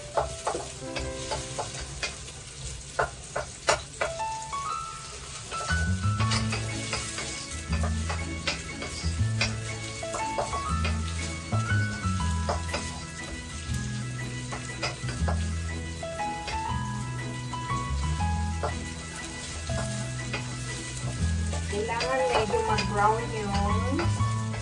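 Onion and garlic sautéing in a pan, a continuous close sizzle with repeated stirring and utensil scrapes against the pan, while background music plays throughout.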